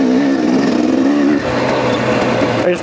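An old motorcycle running on stale gas, its engine droning loud and steady close by with a pitch shift partway through and a brief rev near the end.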